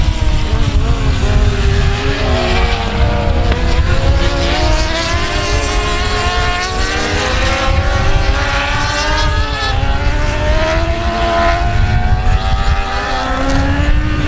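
Several race cars roar loudly around South Texas Speedway, engines droning at a steady high pitch and rising and falling as they circle nearby, with no talk over them.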